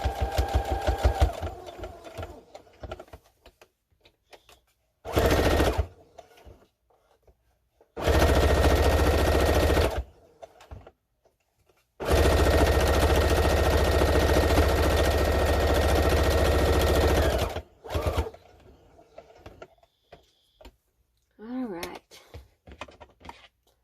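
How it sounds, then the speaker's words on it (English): A sewing machine stitches and backstitches fabric in several loud, rapid mechanical bursts, each a few seconds long. Quieter gaps, clicks and handling noises come between them, and a person talks at times. "I'm just going to stitch over that end anyways, and then at the very end I'm going to backstitch"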